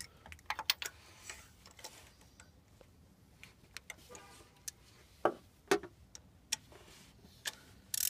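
A socket wrench tightens a new plug by hand: sparse, faint, sharp metallic clicks scattered irregularly, a few louder ones near the end, over a quiet background.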